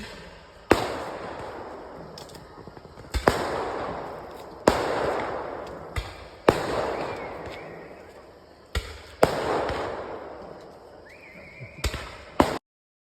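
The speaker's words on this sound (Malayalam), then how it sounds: "പുലർച്ചെ 5:30 ആയപ്പോഴായിരുന്നു വെടിക്കെട്ട്." Loud fireworks boom repeatedly at a Kerala temple festival in the early morning, about ten sharp blasts spaced a second or two apart, each trailing into a long echoing rumble, with no talking.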